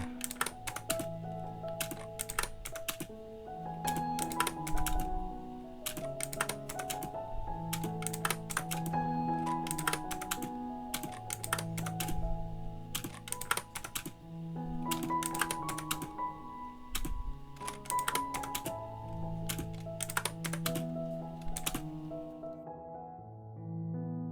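Keyboard shortcuts tapped out in CAD software, crisp clicks of individual keys arriving in irregular bursts and clusters, close and fairly quiet, with a faint electronic hum behind.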